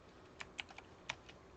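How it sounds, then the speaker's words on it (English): Several scattered keystrokes tap on a broken computer keyboard, quiet and close, in an irregular handful of clicks with no voices. "Oh man, my broken keyboard."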